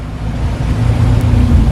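A boat engine rumbles at sea with wind and water noise, a steady low drone over a phone line with no talking.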